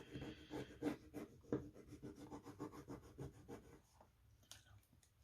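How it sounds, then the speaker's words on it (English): A rub-on transfer being burnished onto a journal page, with faint, soft, rapid scratchy rubbing strokes close by that thin out toward the end. "we rub until it transfers onto the page"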